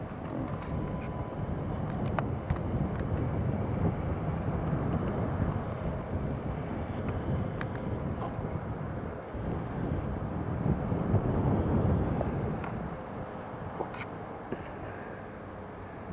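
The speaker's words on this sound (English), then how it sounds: "let's pan over the approach and watch this KLM land" A KLM airliner lands at Newcastle International Airport, its broad, steady jet roar rumbling throughout at a distance with wind buffeting the microphone.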